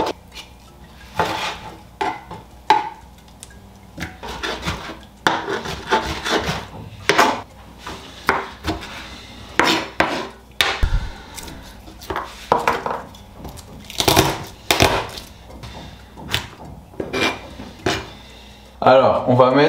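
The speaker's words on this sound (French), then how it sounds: "Alors les poivrons, on va les peler et les hacher." Grilled bell peppers being peeled and chopped on a wooden board, a close series of irregular knife knocks and rubbing scrapes, with occasional voices in the background.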